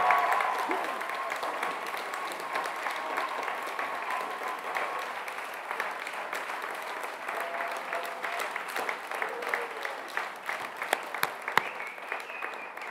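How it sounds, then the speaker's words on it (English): Nursing graduates at a pinning ceremony give themselves a round of applause: steady, moderately distant clapping from a crowd that continues throughout, with a few sharper claps near the end. "Please give yourselves a round of applause."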